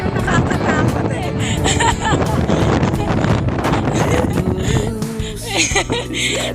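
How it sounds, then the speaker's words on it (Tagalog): Strong wind at the Diguisit rock formation on the coast near Baler, Aurora, roaring steadily and loudly into the microphone as rough buffeting gusts, with voices talking faintly underneath. "Hangin yung nakakatakot eh."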